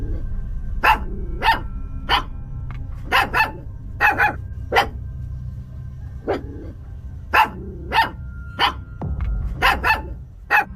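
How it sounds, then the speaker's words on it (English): A dog barks repeatedly in a backyard at night, sharp loud barks coming in irregular bursts with short gaps over a low steady background hum. "The dog keeps barking non-stop."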